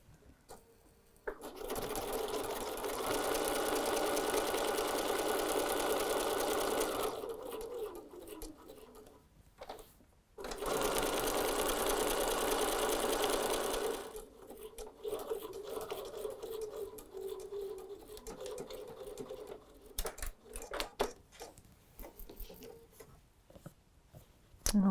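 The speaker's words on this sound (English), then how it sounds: "I will be over at the sewing machine to do that zigzag stitch with you" A sewing machine runs in two long bursts of rapid zigzag stitching with a short pause between, followed by scattered clicks and fabric rustling nearby.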